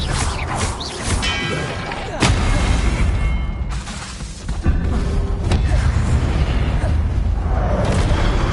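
Incendio fire spells cast during combat in Hogwarts Legacy, heard as a run of heavy booming bursts and crackling blasts at uneven intervals over busy game sound, loud and close.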